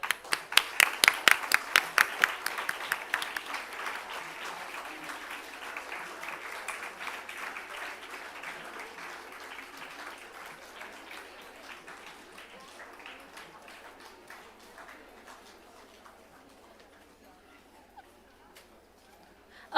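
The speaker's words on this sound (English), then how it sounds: "A huge round of applause for all the winners." An audience at an institute day ceremony applauds award winners, with loud, close claps at first that thin out and fade into scattered, faint clapping.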